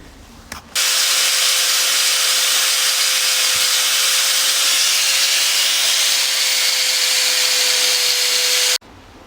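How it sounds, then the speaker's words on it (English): An angle grinder cuts down the end of a motorcycle chain pin: a loud, steady high-pitched grinding whine that starts abruptly, holds for about eight seconds and then stops. "I'm going to grind off the end of this and try pressing out this pin"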